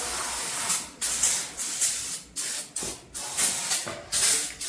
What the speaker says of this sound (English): All right, we're going to spray this off.